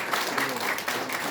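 Audience at the opening ceremony of the Syngman Rhee VR memorial hall applauding, a steady wash of clapping from a crowd with voices mixed in, moderately loud.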